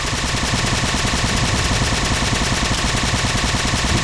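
Rapid automatic gunfire from the Halo video game, a steady, dense stream of shots filling the whole stretch at close range with no break.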